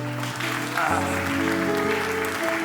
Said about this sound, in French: On applaudit Jésus ici.